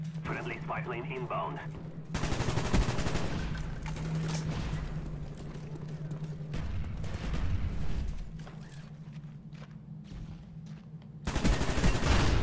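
Gunfire in Call of Duty: Black Ops, rapid automatic bursts in close, loud runs broken by quieter gaps, with game music and effects underneath and a voice talking over parts of it.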